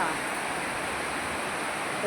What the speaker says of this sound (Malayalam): തകർത്ത് മഴ പെയ്യുകയാണ്